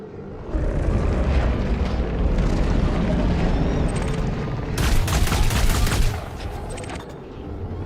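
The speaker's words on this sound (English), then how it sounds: "shooting my ship again" Gunfire striking the player's ship in Elite Dangerous: Odyssey, a sustained roar of rapid impacts and booms with a harsh burst of crackling hits near the end, loud and continuous.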